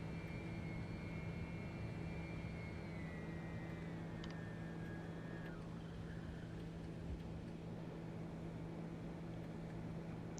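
A TBM-900 turboprop climbs out after takeoff from LAX in the X-Plane 11 simulator, a steady droning engine hum with a whining tone that slides down and fades out partway through.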